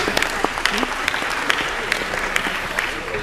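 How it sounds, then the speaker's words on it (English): Applause from the audience during a valedictory speech, a steady, moderately loud patter of many hands with sharp individual claps standing out, a faint voice heard among it. "I think a round of applause for Deanna for that effort."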